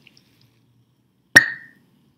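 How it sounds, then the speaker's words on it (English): A lit splint ignites a sample of hydrogen gas in a school chemistry test, giving a single sharp, squeaky pop that decays quickly after a near-silent pause. "If you get that squeaky pop sound, then that is the positive result for hydrogen being present."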